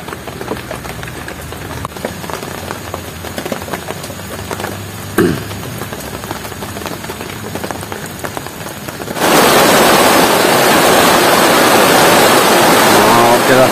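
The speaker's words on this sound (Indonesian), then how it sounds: "ini hujan udah mulai lebat nih. Mulai lebat hujannya." Heavy rain falling at a garden plot: light pattering for most of the time, then a sudden loud, dense hiss as the downpour intensifies over the last few seconds.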